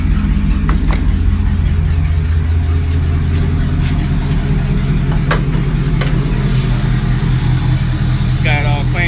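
A Nissan Titan pickup truck's engine idles with a steady, low rumble close by without a break, with a brief chirping sound near the end.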